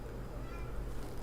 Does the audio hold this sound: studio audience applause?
no